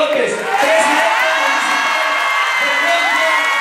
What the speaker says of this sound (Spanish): Recibamos con un fuerte aplauso a Rodrigo Luis Arredondo López